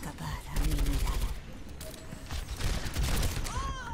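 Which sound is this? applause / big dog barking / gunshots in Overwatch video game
gunshots in Overwatch video game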